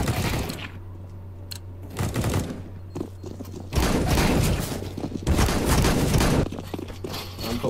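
Gunfire in a competitive esports shooter match, including an XM shotgun, comes in bursts of sharp shots with footsteps between them and a steady game hum underneath.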